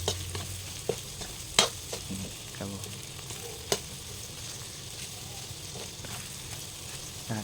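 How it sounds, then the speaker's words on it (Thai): Sour fermented fish stir-fried with egg sizzles softly in a pan, with scattered sharp scrapes and clicks of the spatula at irregular intervals, fairly quiet with no voices. "ผัดไปประมาณ3-4 นาทีนะครับผม"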